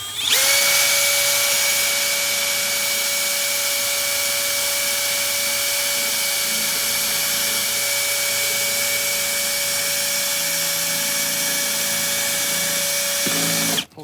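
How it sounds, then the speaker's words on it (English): A power drill whines loudly and continuously for about thirteen seconds at a steady pitch, close up, then winds down and stops. "We're going to drill a hole"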